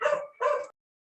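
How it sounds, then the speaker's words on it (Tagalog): Two quick, close dog barks in a row, sharp and yappy, then silence. "Nagwawala yung mga aso eh."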